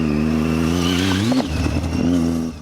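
A Triumph Tiger 800 motorcycle engine revs up and settles in a smooth, steady drone, close and fairly loud, with a brief throttle blip midway.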